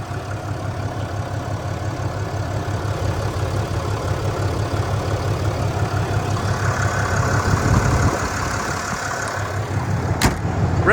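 A 2021 Ram 2500 Limited Longhorn with a Cummins diesel engine idles steadily, a low rhythmic clatter and rumble that stays even and close, with a brief sharp click near the end and no talking.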